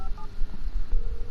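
Telephone keypad dialing in the video game Alan Wake Remastered: a couple of short, clean electronic beeps at the start and a softer tone later, set over low, murky game ambience.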